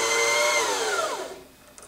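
A Janome HD3000 sewing machine winds a bobbin under foot control, giving a steady high motor whir that holds for about a second before winding down and fading out, close and with no talk.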